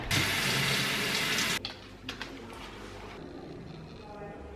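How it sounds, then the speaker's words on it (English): A water tap running to fill a container, a steady gushing rush for about a second and a half that cuts off, followed by quieter clinks and handling sounds. "let's fill up water"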